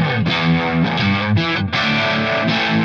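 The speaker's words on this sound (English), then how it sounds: "I wanted to showcase this harmonic tremolo doing like some univibe-ish kind of thing" Electric guitar through a Strymon Flint harmonic tremolo set for a univibe-like pulse, a loud, slightly driven chordal phrase with a swirling, throbbing modulation.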